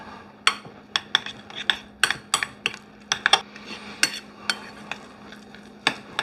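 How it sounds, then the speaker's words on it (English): Carrot salad stirred in a bowl with a utensil, giving repeated sharp clinks and scrapes against the dish in an irregular rhythm, close and fairly loud over a low steady hum, with no talking. "Let me mix this and see where I get."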